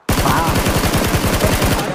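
Rapid automatic gunfire in PUBG, a loud, steady burst of closely spaced shots lasting about two seconds with no pauses.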